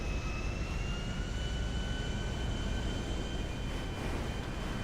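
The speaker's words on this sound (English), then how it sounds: "It's a big plane." Large airplane engine in GTA Online, a loud, steady roaring drone with a broad rumbling wash and faint sustained whine, unbroken and close throughout with no talking.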